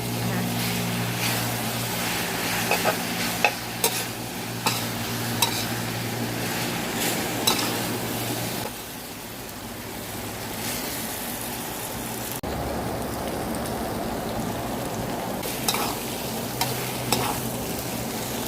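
Vegetarian glass noodles stir-fried in a pan with cabbage and other vegetables, giving a steady close scraping of the utensil over a continuous sizzle, with a voice speaking at times.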